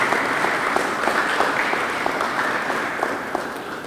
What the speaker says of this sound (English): a big round of applause, virtually too